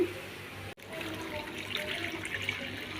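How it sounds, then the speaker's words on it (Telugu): Two cups of water poured into a pan for bread halwa, a steady splashing pour running close and continuous for a few seconds with a brief break near the start. "రెండు కప్పులు ఈ కప్పుతో నీళ్ళు వేసానండి"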